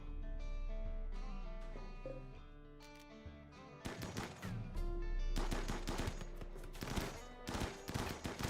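Assault rifle gunfire in the RimWorld video game, with rapid bursts of shots cracking out over a steady game music bed, growing denser and louder in the second half.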